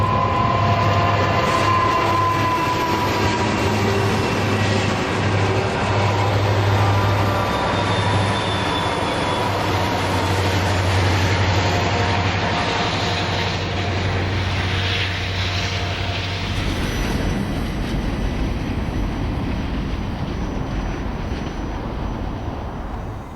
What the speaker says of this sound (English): A caboose hop with 9 units heads east through Christie.